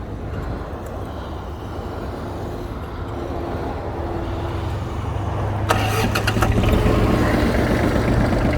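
A small Japanese ISEKI SIAL5 tractor with a rotary tiller, 316 engine hours and in good condition, cranks and catches, then settles into a steady, low rumbling idle, close and fairly loud.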